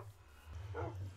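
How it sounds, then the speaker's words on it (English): A dog barks and whimpers in the Minecraft game Dogcraft, a short faint bark with a low steady hum underneath. "What is that louder barking?"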